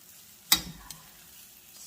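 A utensil stirs a cheesy breakfast hash in a frying pan, making one sharp scrape and clack followed by a smaller tap. Otherwise it is quiet, with no talk.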